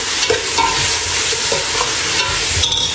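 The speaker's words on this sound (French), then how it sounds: "Je mélange le tout." Lamb curry with garlic and ginger is stirred in a hot pan, the spoon scraping in irregular strokes over a steady close sizzle.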